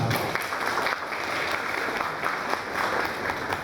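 Audience at a sales training seminar applauding a speaker, a continuous, fairly loud burst of clapping from a roomful of people, with no talk over it.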